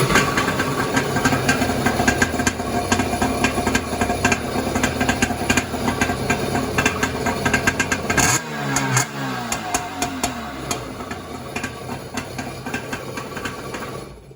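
Vintage Kawasaki X2 jet ski engine with a custom waterbox exhaust, a loud continuous buzzing two-stroke roar held near throttle, its tone dropping and wavering partway through as the revs shift.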